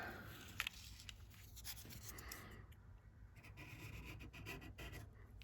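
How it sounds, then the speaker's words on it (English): A quiet, continuous scraping of dried glue off wood on an end table, close by, with a couple of faint clicks near the start. "And I'll just scrape it smooth to ease in my sanding later."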